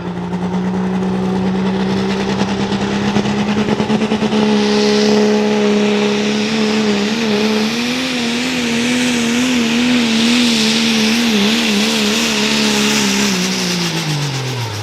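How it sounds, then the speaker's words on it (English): Wisconsin "Rock Diesel" pulling truck at a truck pull, its diesel engine roaring loudly and building steadily in revs, then wavering and falling off near the end, with no talking over it. "Wisconsin truck, they call it the Rock Diesel, Mr. Ben Schiff."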